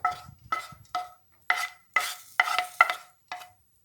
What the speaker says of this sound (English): so it carefully roast the dry fruits.